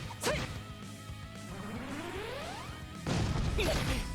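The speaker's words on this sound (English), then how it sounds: "There was an earth-shattering kaboom." Explosion in the video game Trails to Azure: a sharp crash at the start, then a rising whooshing sweep and a second heavy burst near the end, moderately loud with no talk.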